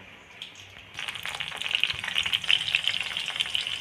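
Green chilies drop into hot oil in a pan and start frying, quiet at first, then a sudden bright, crackling sizzle that grows steadily louder and busier, close up with no talk.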